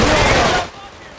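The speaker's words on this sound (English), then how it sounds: "Gunshots are nice and thick" Loud, dense gunfire from a video game, played through a game capture device, fills the first half second as a thick broadband burst before dropping to a quieter tail.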